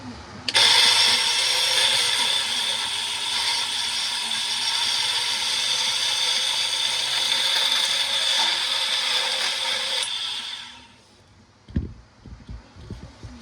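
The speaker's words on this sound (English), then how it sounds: "Lock that on there. Portable bandsaw, like so." A portable bandsaw cuts through a screw clamped in vise grips, a loud steady high-pitched metallic whine running about ten seconds before winding down, followed by a few clunks and handling knocks.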